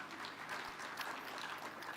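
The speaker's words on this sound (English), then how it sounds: "Please clap for Safaricom Foundation." Audience applause at a Safaricom Foundation 20th anniversary event in Kenya, a steady wash of many hands clapping at a moderate, somewhat distant level for about two seconds.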